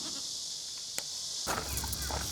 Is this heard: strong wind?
no